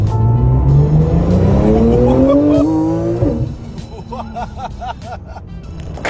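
A carbon-fibre Topcar body kit car on the road, engine revving up and down through rising gear pitches before easing off, then a brief squeal near the end, loud and close.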